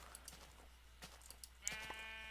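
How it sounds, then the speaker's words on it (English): Sheep bleating in the game Minecraft: one clear, drawn-out bleat rises near the end over faint, scattered game sounds. "Oh, a brown sheep."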